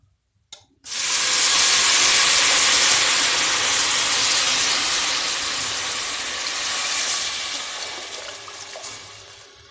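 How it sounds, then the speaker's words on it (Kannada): After a brief knock, a loud, sustained jet of hissing steam bursts from a pressure cooker whistle while cooking wheat payasa, easing only slightly over several seconds. "ಕುಕ್ಕರ್ದ ಬಾಯಿಗೆ ಕೊಂಚ ಸರಿ 5 ವಿಸಿಲ್ ಪೋಡೊಂದು"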